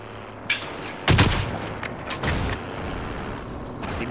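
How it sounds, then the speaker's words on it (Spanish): Gunfire at a port: a loud sharp burst of shots around the one-second mark, followed by a few quieter cracks and bangs, with a faint earlier pop and steady street background throughout. "Hay disparos en el puerto"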